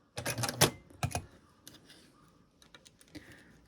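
A sewing machine stitches a fabric lanyard back and forth in short rapid bursts of mechanical clatter, loud at first, then quieter intermittent runs of stitching.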